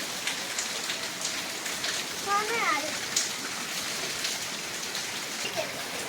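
Steady rain falls outside a family home, a continuous broadband hiss of drops on surfaces with a brief faint chirp partway through, and no voices over it.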